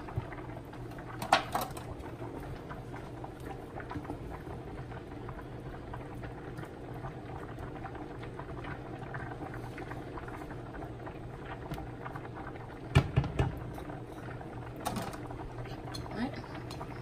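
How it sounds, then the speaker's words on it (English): Spaghetti sauce with meatballs simmering in a pot, a low continuous bubbling and soft plopping up close, with a few louder knocks and clatters partway through. "it's bubbling"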